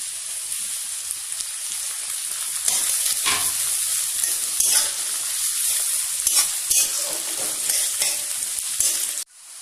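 Vegetables and onion frying in a hot pan for egg chowmein, a bright continuous sizzle with bursts of stirring and scraping, close and loud, ending abruptly.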